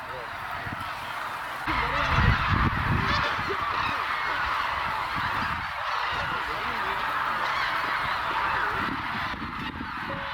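A large flock of migratory geese honks continuously at Suncheon Bay in winter, the calls dense and layered at middle distance, swelling louder for a stretch then holding steady, with faint voices mixed beneath the flock.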